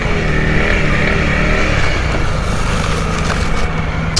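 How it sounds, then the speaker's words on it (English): A motorcycle engine runs steadily and loudly throughout, with a rough low rumble and no talking. "Motorcycle."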